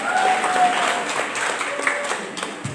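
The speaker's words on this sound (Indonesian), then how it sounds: "Mari kita berikan aplaus yang meriah" Audience applause at a school speech contest for a Dies Natalis celebration: a dense, steady wash of clapping that carries through the whole moment, with a faint tone or whistle audible in the mix.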